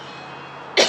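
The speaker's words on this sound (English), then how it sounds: "I feel like now that I'm coughing" A single short, sharp cough lands near the end after a quiet room-tone lead-in, close and loud.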